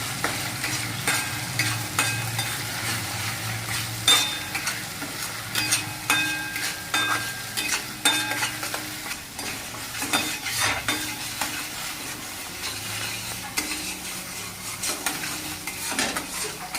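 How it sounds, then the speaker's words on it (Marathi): Masala for a cluster bean (gavar) curry sizzling in hot oil while a spoon stirs it, with frequent scrapes and light clinks against the pan, steady and close, no voices. "याला आपल्याला दोन मिनटं तेलात चांगला फ्राय करून घ्यायचा आहे"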